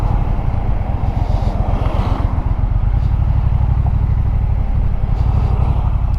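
A 2018 Triumph Bonneville T120 motorcycle under way, its engine a steady loud low rumble with constant throttle, carrying continuous road and wind roar throughout.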